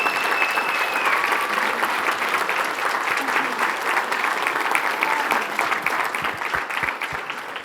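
Sustained audience applause from an office gathering honoring senior management, steady dense clapping throughout at close range with faint voices mixed in.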